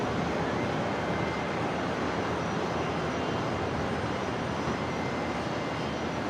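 A Qantas airliner in Yam Dreaming livery takes off from runway 01 at Brisbane, its engines a steady, loud broadband roar with no break and no voices.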